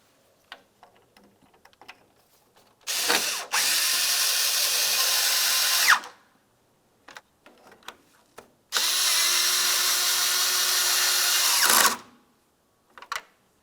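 A power drill or driver runs two long bursts driving 10mm-head bolts that fasten the grille assembly to the body of a 2009-2019 Ford Flex, loud and close, with small clicks and handling noises between them and no talking.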